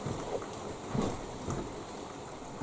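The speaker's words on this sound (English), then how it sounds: "It's just starting to rain" Light rain beginning to fall outdoors, a steady soft hiss of drops with faint patter and a few slightly louder bursts, continuous and fairly close, no talking.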